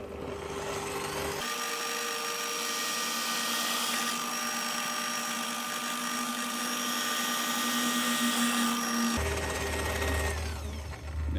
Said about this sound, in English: Now I'm going to try to drill them out without breaking anything.